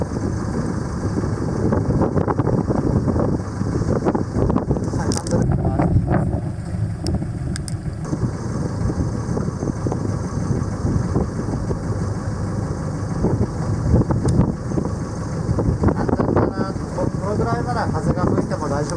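Small motorboat during a boating-licence practice session, pulling away to about twenty metres in wind: a steady engine drone under constant wind buffeting on the microphone, with occasional knocks and brief voices.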